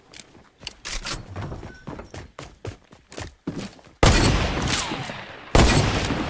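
Video game gunfire with rapid single shots cracking in an irregular rhythm, then two louder, harsher bursts near the end, close and punchy with no voices over them.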